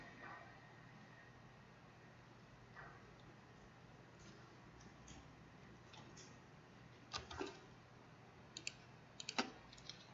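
Keys tapped on a computer keyboard during a computer graphics demo, a few faint scattered clicks over steady background hiss, with small clusters of taps near the end.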